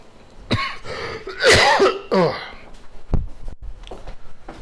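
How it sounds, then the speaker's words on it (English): A few harsh coughs and a throat clear from a nearby person, irregular and abrupt, with quiet rustling between them. "Cough."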